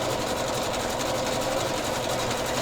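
An embroidery machine stitches an applique in a continuous, even mechanical hum with a fast rhythmic needle patter, close and steady throughout with no talking.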